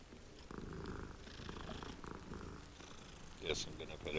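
Cat purring in Hogwarts Legacy, a soft low rumbling purr under game music, with a bright chime near the end.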